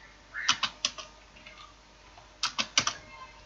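Computer keyboard typing while working in an Excel spreadsheet, heard as two short bursts of a few crisp, close keystrokes separated by a quiet pause, with no talking.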